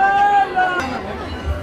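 Crowd of devotees at a Shiva temple on the last Monday of Sawan in Nawagarh, Janjgir, heard as a steady murmur of many voices, close and fairly loud, with chatter and movement throughout.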